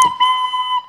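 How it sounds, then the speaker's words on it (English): A short train whistle sounds once, a steady high toot lasting under a second with nothing else around it. "Somebody's got a train whistle."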